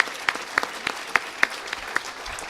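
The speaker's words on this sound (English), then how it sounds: "I want to give one round of applause for all the panelists for coming up here to talk to us today." A small audience at a panel discussion claps, individual claps distinct and fairly rhythmic, fading slightly toward the end.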